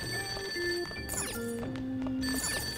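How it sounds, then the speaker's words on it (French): Telephone ringing in the Persona 5 video game, a steady electronic ring repeating over game music and ambient tones, fairly loud with no talking. "Cette sonnerie devrait sortir de mon téléphone."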